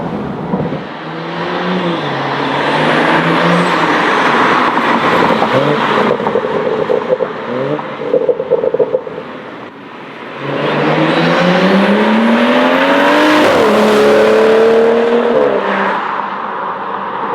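A tuned BMW 435i Gran Coupe with Stage 2+ downpipe and intake pulls hard in second gear, engine note climbing loud and close with a brief lift and shift midway before surging again, no talk.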